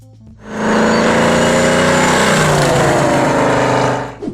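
A 1970 Plymouth Hemi Cuda muscle car rises into a loud, sustained engine roar close by, holding steady for several seconds before easing off slightly at the end.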